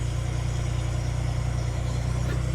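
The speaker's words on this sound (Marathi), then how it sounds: "गाडी आली" A car engine idles steadily and close, a loud, even low rumble with a regular pulsing throb and no other sounds.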